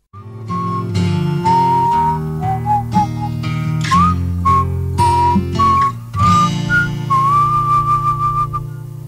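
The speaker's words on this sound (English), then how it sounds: "hats off for the whistling at the end there" Someone whistles a wavering melody over soft instrumental backing in a radio studio, the notes rising and falling clearly and close by.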